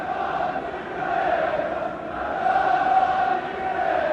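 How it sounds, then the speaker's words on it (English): Travelling Sunderland supporters at a 1980 away match against Nottingham Forest raise a broad, sustained crowd roar that swells and dips, distant and filling the stadium. "It's given the travelling Sunderland supporters something to cheer about."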